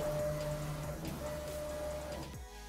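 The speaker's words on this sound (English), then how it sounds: "Let's go ahead and load it into the machine and give it a spray." A pretreatment machine for a Kothari F2100 DTG printer sprays a garment, a steady mechanical whir and hiss with a tonal hum that cuts off near the end, no talk.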